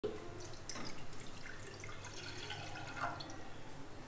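A full glass of water is poured into a pan on a gas stove while making kadha, a soft, continuous splashing trickle that stays faint and steady throughout.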